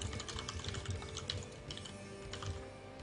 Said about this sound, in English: Can you mute your microphone, clear while you're typing, please?